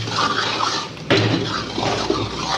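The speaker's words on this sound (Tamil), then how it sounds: "இப்போ நல்லா போட்டு மிக்ஸ் பண்ணி வச்சுக்கோம்" A spoon stirring thick channa masala gravy in a pan, with close scraping and clinking against the metal and a sharper knock near the middle, continuing alone without talk.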